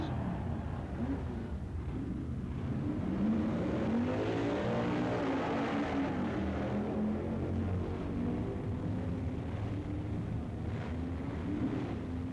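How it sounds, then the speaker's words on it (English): Drag race cars at a 1965 event roar steadily in a loud, continuous engine drone with wind buffeting, no distinct launches standing out. "Koppel beats Bill Flynn in a tight race."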